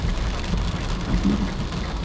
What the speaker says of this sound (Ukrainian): Хорошенький такий дощик пішов.